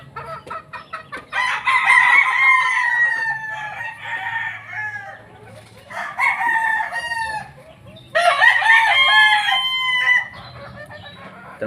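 A broodcock rooster crows three times in loud, drawn-out calls, each followed by a pause, with soft clucking and faint farmyard sounds in between.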